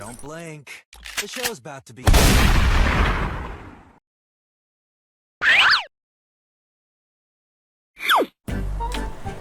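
M4A1 rifle fire in a video game, heard as one loud, sustained burst that decays over about two seconds, followed by a few short metallic clicks and bursts, with brief talk at the start.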